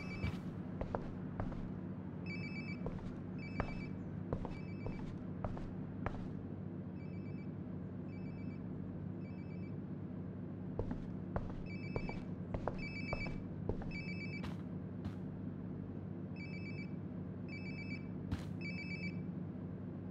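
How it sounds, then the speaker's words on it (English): Across a steady low background hum, a phone ring repeats in short, evenly spaced chirping bursts in the video game Life is Strange Before the Storm, faint and unaccompanied by talk. "My phone's definitely in the bathroom. I need to find my phone before I head down there."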